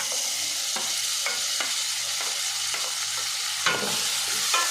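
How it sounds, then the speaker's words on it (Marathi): Homemade masala frying in a pan for rajma masala, a steady close sizzle with a few sharper stirring scrapes at intervals, no talking. "एकदम छान असा आपल्याला हा मसाला तळून द्यायचा आहे"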